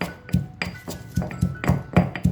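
Fried ingredients are pounded in a mortar, about nine steady, evenly spaced thuds with a faint clink, up close and alone.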